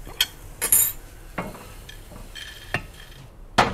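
Tortilla strips fry crisp in a pan for migas, a quiet sizzle broken by several sharp clinks and scrapes of a utensil stirring against the pan.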